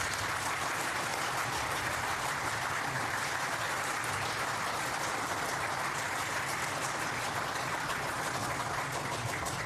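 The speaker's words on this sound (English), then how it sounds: "Y'all quit clapping. You're cutting in on my time." Sustained, dense applause from an audience at a hearing watch party, steady and even throughout with no pauses, loud and close.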